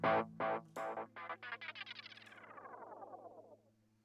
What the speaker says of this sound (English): Now we have the tape echo.